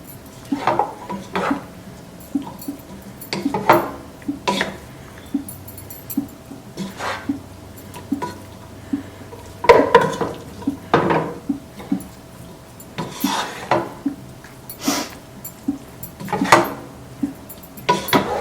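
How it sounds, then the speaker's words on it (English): A spoon stirring and scraping Afghani pasta in a metal pot, with repeated close clinks and knocks in an uneven rhythm throughout and no talking. "Make sure you stir or mix it with light hand because we don't want to break apart our pasta"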